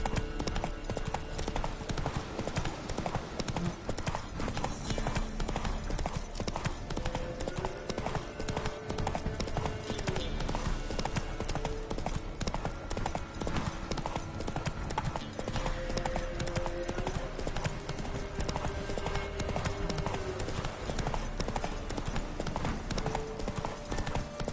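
Steady galloping hoofbeats of a horse in the video game Witcher 3, a continuous fast clip-clop rhythm heard close and prominent throughout, with faint ambient game sound underneath.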